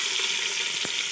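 Onions frying in ghee in a pan, a brief steady close sizzle with one small clink partway through.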